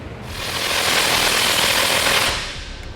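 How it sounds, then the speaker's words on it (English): Trailer hitch fasteners are run down on a 2010 Chevrolet Silverado during a Curt receiver install, giving a sustained, loud mechanical rattle from a power tool that builds, holds steady for about two seconds, then drops off. "Now let's go ahead and snug down our fasteners."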